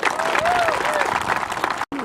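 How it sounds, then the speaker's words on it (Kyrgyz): A hall audience at a Talas community gathering in Moscow breaks into steady clapping, dense and sustained, with a brief cut near the end. "Буга кол чаап коюңуздар"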